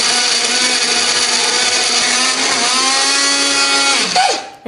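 A blender grinds a spice paste with a little water or oil for an eggplant dish. It runs loud and steady close by, then winds down and stops at the end. Nobody talks.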